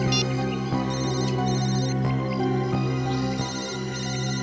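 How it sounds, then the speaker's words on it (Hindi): A phone ringtone rings steadily in a CID crime-investigation setting, a bright repeating electronic melody held at a loud, even level throughout with no talk over it. "फोन फिर से बज रहा है सर"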